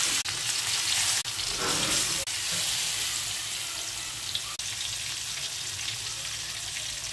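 Fish coated in turmeric powder, chili powder and salt frying in hot oil, giving a steady close sizzling hiss throughout with a few soft clicks of handling.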